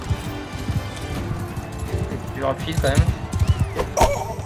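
A horse gallops in the video game Bannerlord, its hooves clip-clopping in quick, uneven beats as they grow louder, under someone speaking French.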